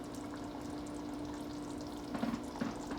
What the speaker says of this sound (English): It's boiling all over, which is important.